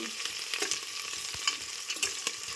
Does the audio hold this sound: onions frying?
yes